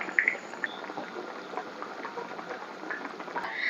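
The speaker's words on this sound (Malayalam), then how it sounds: "കറി നന്നായിട്ട് തിളച്ചിട്ടുണ്ട്" Chicken curry bubbling in a pot on the stove, a steady soft simmering patter with occasional small pops, close and fairly quiet, no voices.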